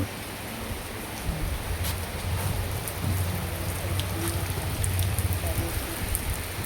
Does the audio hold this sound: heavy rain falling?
yes